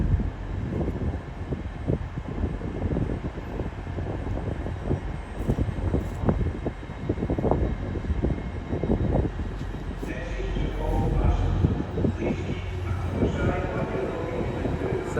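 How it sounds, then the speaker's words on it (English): An LNER Azuma class 801 unit, 801 203, draws into a London terminus as a terminating service from Newcastle, its low rumble and wheel clatter steady and close, with voices talking over it in the station. "Soon to arriving now will be a terminating L&ER Zoomer service from Newcastle."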